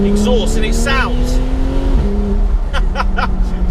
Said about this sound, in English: Really, really deep tone on this, though, from the sports exhaust from the factory.